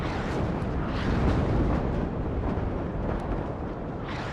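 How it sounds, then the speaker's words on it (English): A rumbling artillery strike in the real-time strategy game WARNO: a sustained, heavy roar of blasts with deep low-end weight, dense and continuous rather than one sharp bang, filling the whole moment without talk. "A bit of a wasted artillery strike there."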